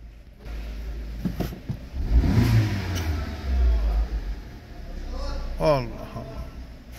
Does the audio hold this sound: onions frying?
no